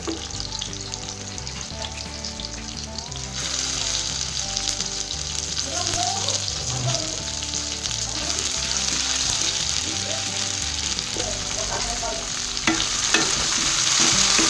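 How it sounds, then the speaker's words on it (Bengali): Ginger garlic paste fries with onions in a pan for Bengali-style chilli chicken, a loud, steady sizzle with scraping stirs, growing fuller after a few seconds, with no talk. "আদা রসুনের যে পেস্টটা ছিল ওইটা দিয়ে আবার ভেজে নেব"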